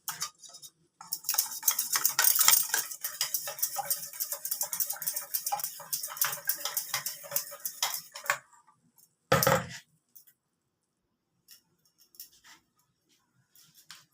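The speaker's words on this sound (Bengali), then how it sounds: "এবার এটাকে আমি আবার ভালো করে মিশিয়ে নিচ্ছি।" A spoon scrapes and clinks against a pan while a mixture with roasted chickpea flour (sattu) is stirred, a steady rhythmic clatter for about seven seconds, then a short louder knock after a pause. No one speaks.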